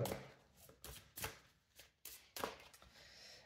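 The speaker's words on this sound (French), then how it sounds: "Je vais poser quelques cartes de l'oracle des miroirs pour venir compléter ce tirage." Oracle cards from a mirror oracle deck set down one by one on a table, giving several soft, papery slaps and slides at an uneven pace, close and fairly quiet, with no voices.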